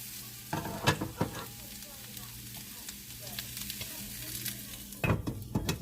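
Onions cook in a covered pot for smothered potatoes, giving a gentle, steady sizzle broken by several sharp clanks and knocks of the lid and utensils.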